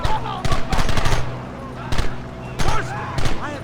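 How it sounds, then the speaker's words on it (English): Gunfire in the Red Dead Redemption video game, several loud bursts of rapid shots separated by short gaps, with someone shouting over them. "Marston! Why the hell are you shooting?"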